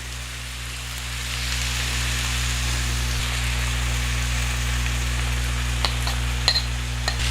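Yogurt mixture poured over chicken on a tawa over a low gas flame, sizzling in a continuous, rain-like hiss over a low steady hum, with a few faint clicks near the end.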